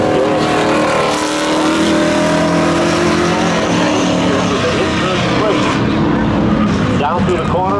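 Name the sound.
pickup truck launching in spectator drag race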